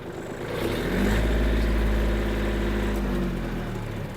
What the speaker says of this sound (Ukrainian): показати вам роботу фрези на максимальних обертах